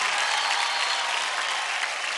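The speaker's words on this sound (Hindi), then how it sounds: "जोरदार तालियां हो जाए कॉकरोच के लिए." A studio audience claps loudly and steadily for a dance performance on a televised dance competition stage, a dense unbroken wash of applause with no voices over it.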